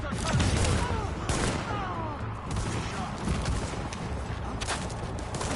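Gunfire in the video game The Division, a run of sharp shots and bursts spread through the clip amid busy game noise, with voices talking under the shooting.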